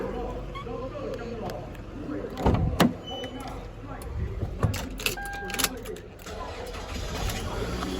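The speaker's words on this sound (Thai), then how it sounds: "ติดทีเดียวครับนิ่ม ๆ" An automatic scooter engine starts on the first try and settles into a smooth, steady idle, heard close with someone talking over it.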